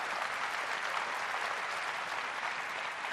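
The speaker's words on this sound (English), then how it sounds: "The crowd goes wild." Steady applause from a large crowd at Apple's iPhone 6S keynote, a dense and even wash of clapping that holds at a constant level throughout.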